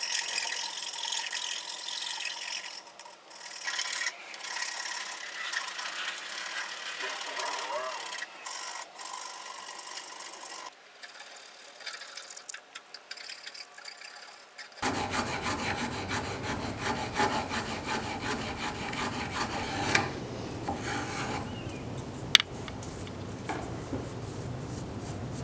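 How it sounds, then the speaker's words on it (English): Hand files shape wooden knife handle scales in steady, close rasping strokes with occasional pauses. The strokes turn harsher and brighter partway through, and a faint tap sounds near the end. "we are back to the hand files to bring the scales to their final shape"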